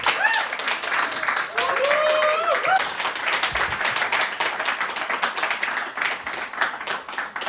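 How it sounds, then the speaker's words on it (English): Audience at a live podcast evening giving a big round of applause, dense sustained clapping throughout with a few whoops, at fairly close range. "please give Ben M. Freeman a massive round of applause"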